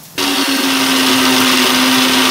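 A mixer grinder kicks on and runs loud and steady, whirring as it blends mushroom gravy paste, a constant high motor drone with no voices.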